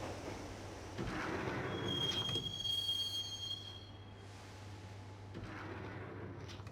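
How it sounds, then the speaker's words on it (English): A train ride in the Max Payne video game, with a low steady rumble of rolling carriages, a high metallic squeal of wheels in the middle and rattling clatter, moderately loud and without speech. "the train doors had already shut behind me, and I was in for the ride"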